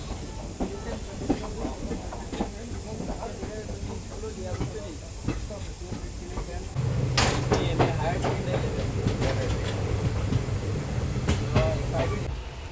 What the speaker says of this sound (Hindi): अभी देखो वापस से मेन लाइन पे अपनी ट्रेन पहुंच रही है